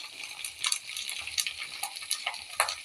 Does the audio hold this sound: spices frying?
yes